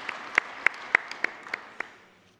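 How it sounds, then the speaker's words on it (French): Sparse applause in a meeting assembly, a handful of distinct claps spaced at an irregular rhythm over a faint background of scattered clapping that tapers off toward the end. "Alors je propose qu'on l'applaudisse."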